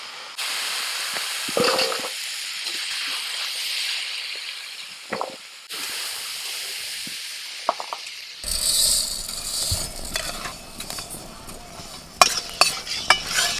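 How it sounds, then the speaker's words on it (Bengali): Moong dal frying and being stirred in a pan, with soft hissing and scraping of a spatula coming in bursts, then a louder sizzle rising toward the end. "বৌদি মুগের ডালটা একটুখানি ভেজে দিচ্ছে"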